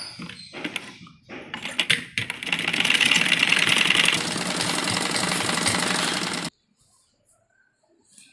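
A sewing machine stitches a printed kurti seam, starting with a few short stuttering bursts before settling into a fast, loud, continuous whirring run that stops abruptly, leaving near silence.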